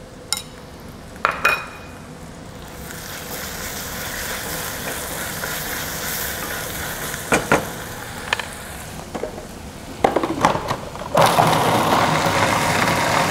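Shallots being sautéed with ground chili paste (sambal ulek) in a pan, with scattered utensil clinks and scrapes over a steady frying hiss that grows louder near the end.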